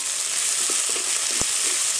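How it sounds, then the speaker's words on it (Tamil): A steady hiss of green chili and curry leaves frying in oil, with a few faint crackles and one clear pop partway through. "கருவேப்பிலை பச்சை மிளகாய் எல்லாமே நல்லா பொரிஞ்சிருச்சு"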